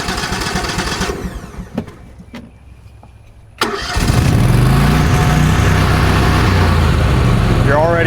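An ESAB Ruffian 270 engine welder is heard with a sharp start-up and then a loud, steady running drone that holds close and constant, following a quieter stretch with faint voice and knocks.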